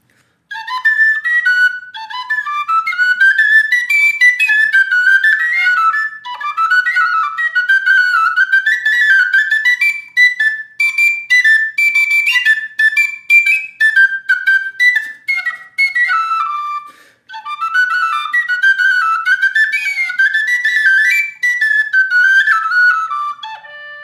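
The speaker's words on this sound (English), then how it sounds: "So those are the penny whistles." A penny whistle plays a bright, lively melody of quick ornamented notes, steady and loud and close, for about twenty-four seconds with only brief pauses between phrases and no talking.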